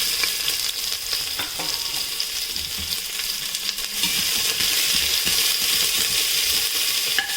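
Ginger, garlic, cumin seeds and black pepper fry in oil over a low flame, giving a steady close-up sizzle with occasional clinks and scrapes of stirring, slightly louder in the second half, with no talking.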